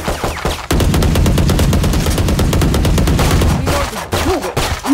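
Dense automatic gunfire from the Valorant video game, a long sustained burst of rapid shots filling most of the stretch, loud and close, with sparser shots and game effects at the start and end.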